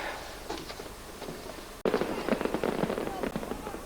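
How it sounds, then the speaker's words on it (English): A sharp crack of a firework bursts out after a moment of quiet murmuring, followed by crackling and lingering noisy rumble. "Is that a firework?"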